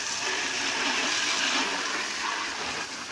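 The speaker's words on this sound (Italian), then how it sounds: "Noi abbiamo pescato dell'acqua piovana con una pompettina" Rainwater pumped from an underground cistern by a small 12V pump, a steady loud rushing gush of flowing water close by, continuous throughout and easing slightly at the end.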